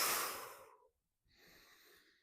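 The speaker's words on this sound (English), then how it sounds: "So try to take a deep breath in and breathe out." Slow, deep breaths during a core crunch exercise: a long, airy exhale that fades out, a short pause, then a softer, rushing inhale, close and without speech.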